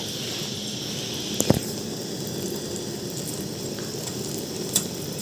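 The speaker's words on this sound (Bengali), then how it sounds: "এখানে বেগুন ভাজাটা বসিয়ে দিলাম" Eggplant slices fry in hot oil in a pan, a steady close sizzle and crackle with a couple of light utensil knocks and no talking.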